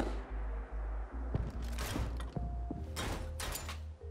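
A heavy weapon from a Fallout 4 mod being reloaded in the video game: a series of mechanical clanks, thumps and metallic clicks at close range, set over a low steady hum.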